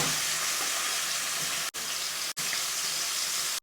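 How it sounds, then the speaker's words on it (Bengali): Prawns dropped into hot oil in a wok set up a loud, continuous sizzle and crackle with no voices. The sizzle cuts out sharply for an instant three times. "এটা গরম হয়ে এসছে, চিংড়ি মাছগুলো ছেড়ে দিলাম"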